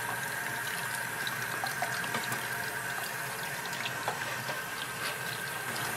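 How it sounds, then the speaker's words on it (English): Tap water runs steadily from a pipe to rinse a kitchen grater, a continuous rushing, splashing stream at moderate volume with no talking over it. "So you open the pipe slowly and you get it out because you still don't want to put too much water into the thing"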